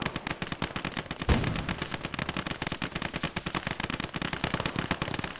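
Anti-tank rifle shots and other gunfire in the Gates of Hell: Ostfront World War II strategy game, a rapid, dense stream of sharp cracks with one heavier blast early on, continuous battle din without voices.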